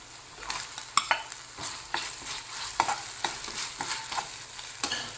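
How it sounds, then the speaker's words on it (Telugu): Finely chopped tomato sizzling in hot oil with garlic paste while being stirred, a soft steady fry broken by repeated clinks and scrapes of a spoon against the pan. "ఈ టమోటా కూడా బాగా మా ఆయిల్లో మగ్గిపోవాలి"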